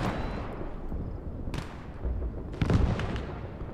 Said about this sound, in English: Okay, so they do have a mortar.